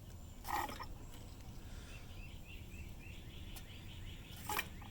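A lawn mower carburetor's primer bulb is pressed twice, giving two short, faint squishing pushes about four seconds apart, with quiet outdoor background and birds chirping softly in the distance.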